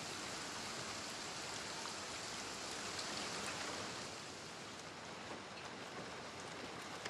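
A steady, soft hiss of rain falls continuously outside a house, an even wash of drops with no voices heard.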